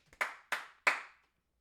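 Three sharp hand claps, close and evenly spaced, each ringing briefly before fading into silence.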